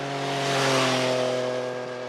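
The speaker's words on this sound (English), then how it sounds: "It's a very different and distinct sound coming out of the exhaust." Exhaust note of an MV Agusta F3 three-cylinder motorcycle, a steady tonal engine drone holding close and loud with a slight swell in the middle, no voices.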